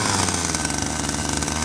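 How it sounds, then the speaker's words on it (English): A chainsaw engine runs just after being pull-started with the choke on, giving a steady, loud, buzzing roar that holds for the whole moment with no voices. "When chainsaw starts for a short time, you can lower the choke lever."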